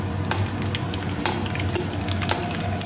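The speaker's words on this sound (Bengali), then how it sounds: "এইবার লঙ্কা আর সর্ষে দিতে হবে, দিয়ে একটু ভালো করে ভেজে নিতে হবে" Green chilli and mustard seeds frying in hot oil, a dense crackling sizzle with scattered pops and a low steady hiss, close up and continuous with no talking.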